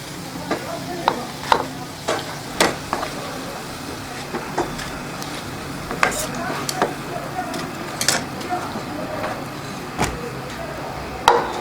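Chicken pieces frying in oil for a deep-fried chicken dish, with a steady sizzle broken by sharp scraping knocks of a spoon stirring the pan at irregular intervals, close and moderately loud.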